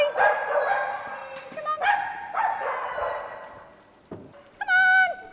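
Dogs at a doggy daycare in Dublin, Ireland give several loud, close barks and yips in quick bursts, ending in a high whine, while a person briefly calls out.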